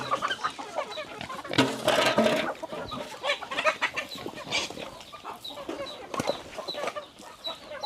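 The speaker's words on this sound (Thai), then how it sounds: "เอาอาหารมาให้น้องไก่ครับผม เป็นข้าวปลายนะครับผมให้น้องไก่น้องหมูชิมไปก่อนครับ" A flock of farm chickens cluck and squawk busily while being fed broken rice, with overlapping calls and a louder burst of excited cackling, close by and continuous, with no speech.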